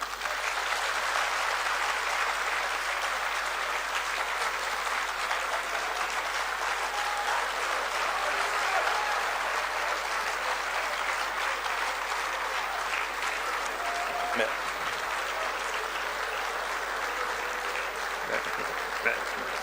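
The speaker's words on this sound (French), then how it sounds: "je demande au Conseil politique de vous acclamer" A political council gathered to name a presidential candidate in Côte d'Ivoire applauds, sustained, even clapping from a large room that carries on steadily throughout.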